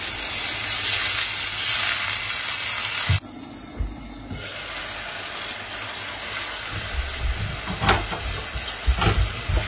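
Water hits a hot pan of chickpeas frying with onion, ginger and garlic paste, setting off a loud hiss that cuts sharply to a softer, bubbling simmer with a few clatters.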